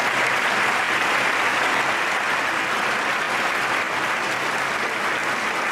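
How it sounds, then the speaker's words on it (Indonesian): A concert audience gives a grandfather's piano performance a big ovation: dense, sustained applause that stays loud and even throughout, with no music or talk. "Esoknya Anat dan Ziv nonton konser sang kakek, di mana petikan pianonya mendapat sambutan hebat penonton."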